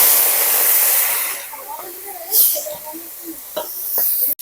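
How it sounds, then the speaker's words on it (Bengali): Turmeric-and-salt-rubbed shrimp frying in a pan, a steady broad hiss of hot oil that fades partway, followed by softer sputters, a couple of sharp pops and clicks. "হলুদ নুন মাখিয়ে নিয়েছি, এবার ভেজে নেব।"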